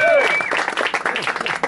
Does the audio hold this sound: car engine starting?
no